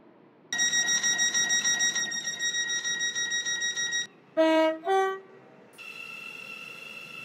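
Stepford County Railway train in the Roblox game, with a steady electronic tone running for several seconds, then a pair of short rising chime notes and a quieter sustained tone, all close and clean with no talk.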